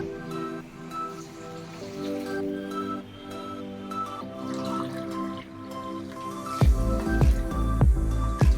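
Water poured into a pot of egg biryani during cooking, heard as a sudden burst of splashing and gurgling near the end over a steady background of music.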